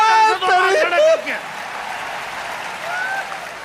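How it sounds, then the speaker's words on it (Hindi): Applause rises from the audience at a Hindi kavi sammelan poetry gathering in Kota, a steady crowd clatter that continues while a voice speaks loudly over the opening seconds. "जरा ताली बजाओ"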